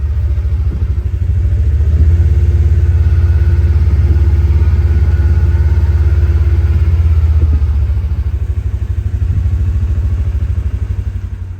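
A side-by-side utility vehicle engine rumbles steadily at close range, a loud, low, throbbing drone with clattering overtones that holds for several seconds before easing off slightly.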